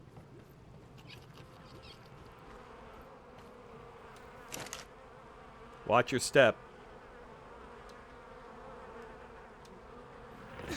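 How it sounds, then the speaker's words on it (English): Flies drone faintly around fertilizer in the video game Ark Survival Ascended, a low steady buzz that swells into a few brief louder bursts midway, while a voice speaks briefly. "Why do I hear bees? Oh, that's my fertilizer."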